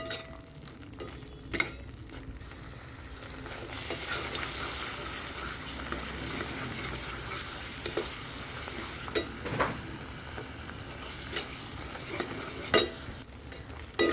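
Spice paste sautéed over medium-low heat for a rohu fish curry gives a steady soft sizzle, with a spoon scraping and stirring the pan now and then, close up.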